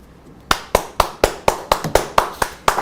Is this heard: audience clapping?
yes